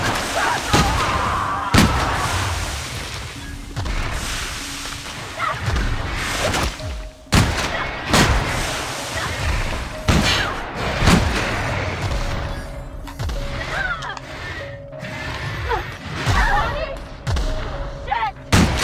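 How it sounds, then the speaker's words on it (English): Repeated shotgun blasts in the video game The Outer Worlds, loud booming shots at irregular intervals over game ambience, with a player talking between some of them. "At least these things die super quickly to shotgun rounds in the face."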